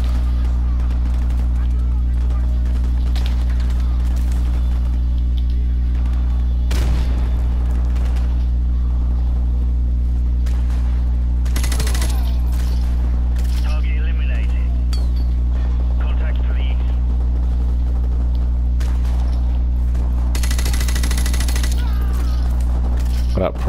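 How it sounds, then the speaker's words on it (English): Gunfire in a Call of Duty campaign battle, with scattered bursts and sharp shots cracking over a constant loud low engine-like rumble and a droning game backdrop. "A whole lot of shooting and not a whole lot of people"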